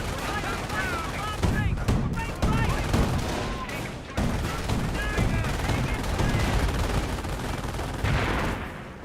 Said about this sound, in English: Decent mortar hit there.